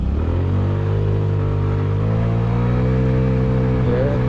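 A Honda Ruckus scooter with a speed and acceleration upgrade revs as it accelerates, its close, loud engine drone climbing steadily in pitch over a few seconds, with steady road rumble underneath.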